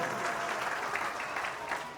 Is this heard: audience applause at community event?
yes